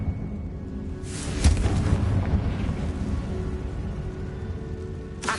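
A Confringo blast spell detonates in Hogwarts Legacy, a loud, sharp explosive crack followed by a sustained low rumbling roar of debris and fire that lingers for several seconds, ending with another brief crack.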